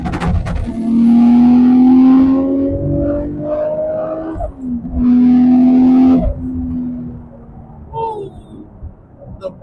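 A 1990 Nissan GT-R R32 accelerates hard in two loud, close surges, its engine note climbing steadily in pitch through each pull before easing off between them.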